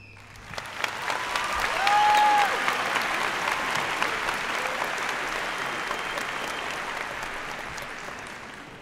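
A graduation ceremony audience at Belton breaks into steady, full applause that builds quickly and then holds as a dense wash of many hands, with a few brief whistles early on.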